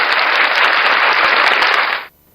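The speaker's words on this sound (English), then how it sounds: "the reason I put a clapping on there" Dense applause-like crackle of many hands clapping, a loud steady burst added as a sound effect in a courtroom clip, lasting about two seconds before cutting off abruptly.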